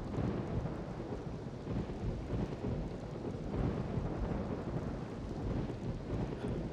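Rain and rolling thunder in the theme park game Rollercoaster Tycoon 3, a continuous rumbling downpour at low volume with no speech.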